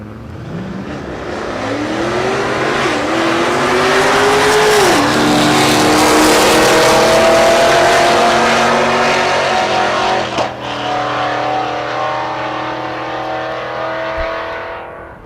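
A Pontiac G8 makes a drag strip run at Texas Motorplex in Ennis, Texas, its engine revving up loud and close through rising gear pulls, then fading as the car launches down the track, with no talk over it.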